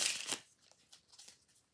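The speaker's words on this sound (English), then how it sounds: "I'm going to start just by shuffling the cards." A deck of playing cards for a twelve-card magic trick is shuffled by hand: a loud, dense riffle burst up close, then a few soft scattered card ticks fading out.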